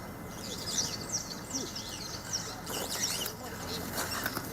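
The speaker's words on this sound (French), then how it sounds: "seuls les oiseaux offrent une sublime symphonie" Birds sing and chirp in repeated phrases in the grande forêt de Matam in the Fouta, moderately faint against a steady background hiss, with someone speaking over them.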